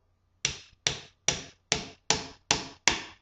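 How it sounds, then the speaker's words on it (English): A hammer strikes a steel wedge driven into firewood to split it, seven sharp, evenly spaced metallic blows close by, each ringing briefly before the next. "So what we do is we take our wedge and our hammer and we go."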